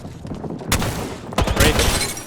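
Gunfire in the game Apex Legends: a loud close burst of shots breaks out, a short pause follows, then a second heavier volley of rapid cracks and booms carries to the end.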